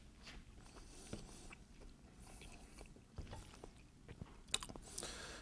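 Close, quiet chewing of a brie cheese rind, with soft irregular bites and mouth sounds plus a few small clicks and knocks over about five seconds.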